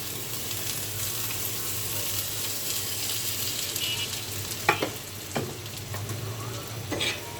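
Oil, onion and garlic frying in a pan for a lentil tempering, giving a steady loud sizzle throughout, with a few sharp spoon clinks toward the end.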